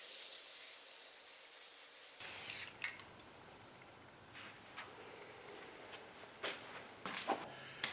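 Glossy black spray paint hisses from an aerosol can onto tiles in short bursts, one strong burst followed by several quieter, brief sprays, close and otherwise quiet.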